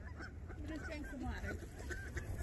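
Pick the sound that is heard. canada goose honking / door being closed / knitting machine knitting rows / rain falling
canada goose honking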